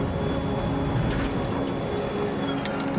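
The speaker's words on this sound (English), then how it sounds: "Engines seem a little quiet, or quieter than I would have expected them to be" Yak-18T aircraft engine drones in a flight simulator game, a steady, fairly quiet low hum with a faint high whine, continuous and without talk.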